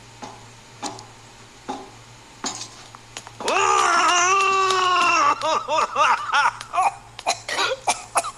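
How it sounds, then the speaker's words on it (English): A character in the video game Ice Scream 8 coughs in a rough burst, followed by a string of shorter choppy coughs and grunts over faint background clicks, with no talk. "Why are you coughing?"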